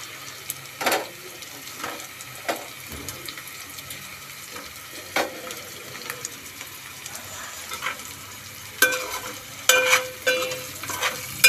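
Something fries in a pan with a low background sizzle, broken by scattered sharp knocks and scrapes of utensils, with a few louder clatters toward the end.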